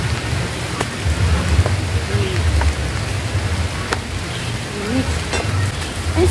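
Rain falling outdoors during a petai harvest, a steady loud patter with scattered sharper drop hits and a low rumble beneath, continuous throughout with faint voices now and then.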